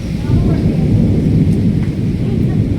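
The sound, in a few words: thunder and rain of a thunderstorm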